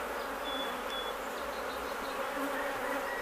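Honey bees buzz in a steady, dense swarm throughout a honey harvest from a hive, a continuous close hum with no talking.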